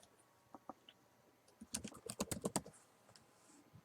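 A few scattered keystrokes on a laptop keyboard, then a quick run of crisp clicks as a word is typed, close and quiet in an otherwise still room with no talking.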